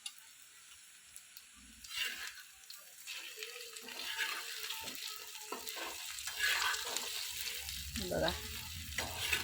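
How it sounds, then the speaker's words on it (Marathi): Eggplant fries in a pan with a soft, crackling sizzle that rises and falls as it is stirred, fairly faint and close, with someone speaking briefly now and then. "चला मग मी असं 2 मिनटं तळून घेणार आहे"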